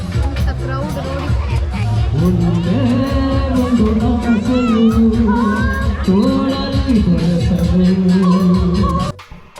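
Dense crowd hubbub at the Karavali Utsava festival in Mangalore during a cultural programme, with steady, loud overlapping voices and chatter throughout, cutting off abruptly near the end.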